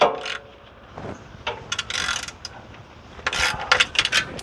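A ratchet clicks in short, uneven bursts while turning a stubborn bolt on a 2018+ Ford Expedition's 10R80 transmission during a service, near and fairly quiet with no talking.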